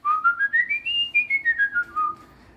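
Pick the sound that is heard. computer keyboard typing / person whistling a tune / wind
person whistling a tune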